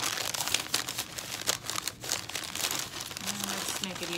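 Newspaper being crumpled and squeezed into a ball by hand for a clay sculpture armature, a close, continuous crinkling and crackling with irregular bursts and brief pauses.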